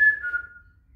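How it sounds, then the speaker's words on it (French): A single clear whistled tone, sliding slightly downward and fading over about a second, with no other sound around it. "Faites du bruit, sifflez."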